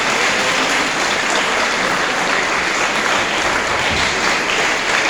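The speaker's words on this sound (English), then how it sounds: "So a round of applause for all of them." Dense, loud applause from an audience honouring top students at a school event in Kalimpong, steady and continuous throughout.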